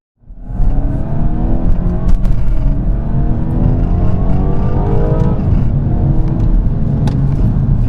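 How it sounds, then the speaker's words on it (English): A 2017 BMW 230i (F22 2 Series) engine revs hard under acceleration, a steady loud drone with rising tones and a faint metallic rattle running through it. "You hear a bit of a rattling sound on acceleration."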